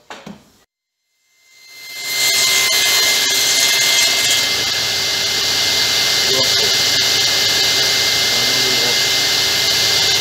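Power saw with its blade tilted to 33 degrees cutting wood for a wine cabinet, spinning up after a short pause into a loud, sustained whining roar that holds steady close by, with a brief voice at the very start.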